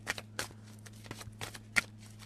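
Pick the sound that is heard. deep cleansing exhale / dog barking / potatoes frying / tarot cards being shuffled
tarot cards being shuffled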